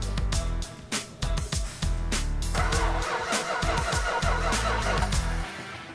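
An old engine cranks and sputters to life, then runs roughly with an uneven, misfiring chatter and rattle, loud and close, and no one speaks over it.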